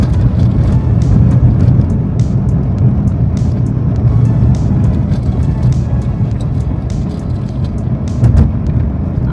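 A car driving along the mountain road from Jomsom to Muktinath, its engine a steady, loud rumble throughout, with rough road noise and faint scattered ticks and rattles from the cabin.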